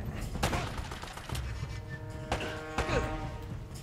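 Gunfire rings out in the video game Uncharted: Drake's Fortune, a few sharp shots spaced over several seconds amid a dense, busy game soundscape with some voice underneath.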